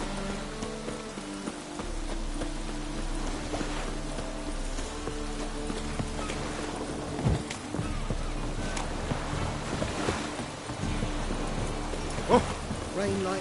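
Steady rain falling in the video game Witcher 3, a continuous dense patter with faint hoof-like clops and muffled game voices underneath.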